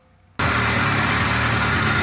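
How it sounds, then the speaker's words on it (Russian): A 2-litre VAZ car engine suddenly starts and runs at a steady idle, a loud, continuous broadband roar with a low rhythmic throb that keeps going until the end. "Мотор работает."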